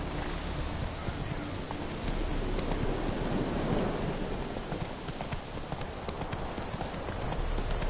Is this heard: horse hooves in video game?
yes